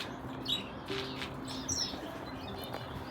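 Canaries, star finches and zebra finches in an aviary chirp and tweet in scattered short calls, moderately near, over a steady soft background hum.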